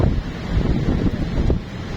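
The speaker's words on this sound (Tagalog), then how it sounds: "Malakas ang hangin." Strong wind at a seaport pier roars and buffets the microphone in a continuous low rumble, with faint surf-like wash underneath.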